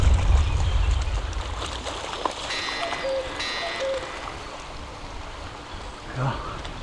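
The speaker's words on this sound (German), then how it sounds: "Klatscht das Wasser zu jetzt am Boot." Water lapping and slapping against a boat on the Danube near a ship mill at Orth, a steady close wash with small splashes throughout and a brief louder slosh near the end.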